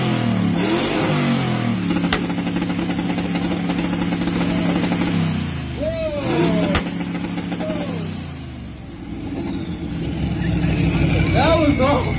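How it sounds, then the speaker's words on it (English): A twin-turbo Chevrolet Camaro on a two-step holds loud, stuttering revs for several seconds, drops off, then fires up again in repeated bursts, with people talking over it. "Let's hear it for the Camaro first."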